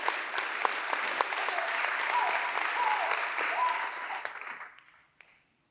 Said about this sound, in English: Give our sisters another round of applause for that magnificent panel.